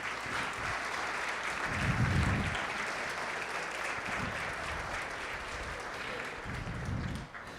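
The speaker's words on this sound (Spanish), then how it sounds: "Dale un aplauso a Jesús." A church congregation applauds during a sermon, a steady wash of dense clapping that holds for several seconds with a few low thumps breaking through.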